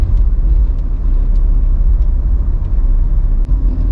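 A car drives along the road to Ban Chong Mafueang in Nong Ri, Chonburi, with a loud, steady, close engine and tyre rumble throughout and no talking.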